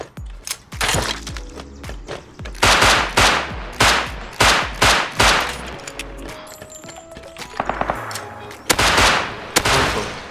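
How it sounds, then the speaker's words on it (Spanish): Rapid bursts of submachine gun fire in the survival game Rust, repeated loud volleys spread across the clip with short gaps between them, heard alone without talk. "y escucho un SMG por ahí"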